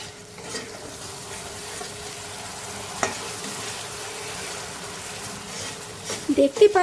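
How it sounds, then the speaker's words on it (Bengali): Prawn malai curry gravy with beaten curd being stirred in a pan: a steady, close sizzle with soft scraping throughout and a few louder clatters of the spoon near the end. "এইভাবে আমি একটু নাড়তে থাকব"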